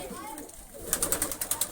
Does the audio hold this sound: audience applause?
no